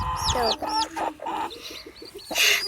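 A mother hen and her chicks cluck and cheep up close in a backyard coop, with short repeated clucks and high chirps in quick, uneven bursts.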